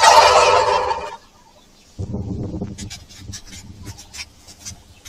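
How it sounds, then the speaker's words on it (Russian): Turkeys gobble in a loud, rattling burst up close, then after a brief pause keep up a chorus of quieter, choppy gobbles and clucks. "Привет, индюки!"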